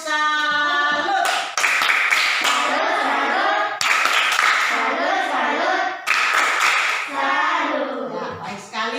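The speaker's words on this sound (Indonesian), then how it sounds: "Tepuk salut." A class of young schoolchildren performs a rhythmic clapping routine, with patterned claps in repeated sections under the children's loud chanting voices.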